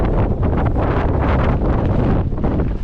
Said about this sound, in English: It's absolutely peeing it down, really windy as well.